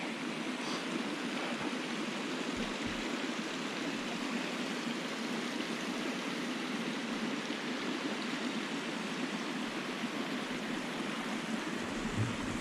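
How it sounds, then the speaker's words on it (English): A small waterfall along a forest trail in the Ouachita National Forest, Arkansas, giving a constant, dense rushing and splashing hiss at moderate distance, steady throughout with no voices. "We got a little waterfall down here"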